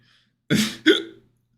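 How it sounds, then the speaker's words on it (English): Two quick hiccups in a row, close and fairly loud, the second sharper than the first, with silence around them. "Now I have the hiccups."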